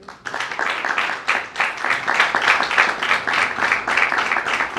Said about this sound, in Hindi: भरपूर तालियों में